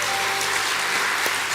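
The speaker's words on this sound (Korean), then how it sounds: "인사하시고 들어갈 때 큰 박수 한번 부탁드리겠습니다" A congregation applauds at a deaconess retirement ceremony in a church, steady dense clapping filling the room without a break.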